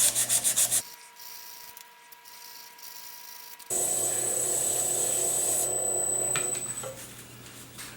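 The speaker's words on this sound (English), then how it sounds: "now I have to sand it with the 400 grit lengthways to get the little scratches out" A pen is sanded lengthways with 400 grit sandpaper, producing a steady, close scraping rub that runs for several seconds after a brief quieter pause with a faint hum.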